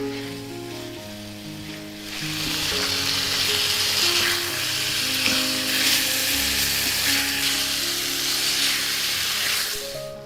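Black pepper, salt, paprika and coriander sizzle steadily in hot oil in a pan while being stirred, a close, continuous frying hiss with soft scraping and no voices.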